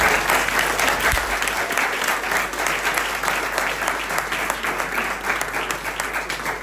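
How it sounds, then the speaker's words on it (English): Enthusiastic audience applause for Andy fills a room at a guitar meetup, a dense, sustained clapping that holds steady at full volume throughout. "Massive round of applause to Andy for bringing all these guitars."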